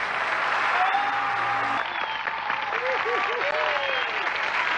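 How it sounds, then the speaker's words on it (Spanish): An audience at a live comedy and celebrity-impression show applauds steadily, the clapping carrying on throughout while a few voices and whoops rise briefly over it. "Más fuerte el aplauso, que se oiga bonito."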